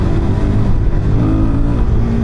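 A 2025 Suzuki DRZ4SM motorcycle engine revs up in second gear as the bike lifts into a wheelie, a loud, close, steady roar with a slight rise in pitch.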